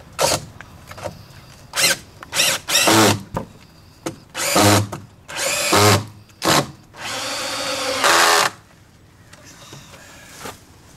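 A power drill drives 3-inch number 10 screws into a fence post during a repair, running in a series of short, loud whirring bursts that end with one longer sustained run. It is close up, with no talking.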